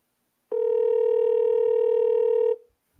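A single steady ringback tone from an unanswered telephone call, loud and close, lasting about two seconds before cutting off into silence.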